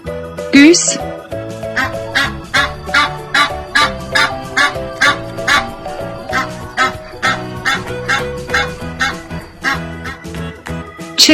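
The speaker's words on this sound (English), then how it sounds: "Goose." A goose honks repeatedly in a regular rhythm throughout, set over a light children's music backing track.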